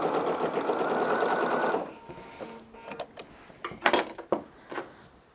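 Sewing machine stitching the seams of a Christmas quilt, a steady loud whirring run for nearly two seconds that then stops, followed by faint handling clicks and taps of fabric and tools.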